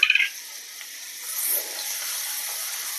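Finely chopped onion sautéing in a pan for a Maharashtrian besan dish with fresh peanuts, a steady soft sizzle and hiss close by, with a brief louder clatter at the start.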